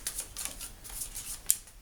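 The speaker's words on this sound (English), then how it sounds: "and I will shuffle up my deck." A deck of game cards for a DC deck-building card game being shuffled, a quick run of soft riffling flicks and taps, close and fairly loud, with no talking.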